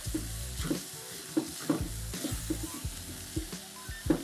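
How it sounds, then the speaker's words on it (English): Beef for a pastelle filling fries in a pot, a continuous loud sizzle punctuated by a quick rhythmic series of tossing and stirring knocks about every half second, close up and with no one talking. "Now we're going to reintroduce our beef back into the pot."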